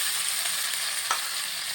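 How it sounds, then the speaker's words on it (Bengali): Cauliflower frying lightly in oil left over from frying potatoes, a steady soft sizzle with a brief stir clink near the end, no voices. "ফুলকপি একটু হালকা হালকা করে লালচে করে ভেজে নিচ্ছি"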